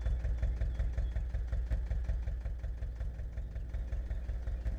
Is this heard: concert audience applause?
no